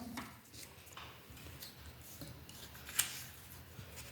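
Small scissors snip paper during a children's craft activity in a kindergarten class, a single crisp cut standing out against quiet room noise with no talk.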